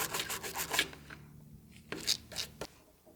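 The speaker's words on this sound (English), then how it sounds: "this is the last jaw slide, just wiping it off, making sure to get everything clean" A cloth wipes a Vicmarc woodturning chuck jaw slide clean, quiet brisk rubbing strokes in short bursts, fading then returning with a few more scuffs.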